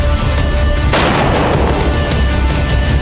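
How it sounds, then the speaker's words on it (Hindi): Indian artillery batteries shelling Tiger Hill in the Kargil war, a sudden heavy boom about one second in followed by a sustained roaring, rumbling barrage of continuous gunfire that stays loud throughout. "भारतीय तोपों की 100 बैटरियों ने एक साथ टाइगर हिल पर गोले बरसाए।"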